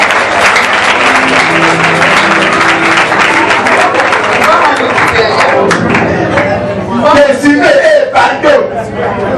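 A church congregation claps and cheers in sustained applause, dense and loud throughout, with voices shouting over it and crowd noise building toward the end.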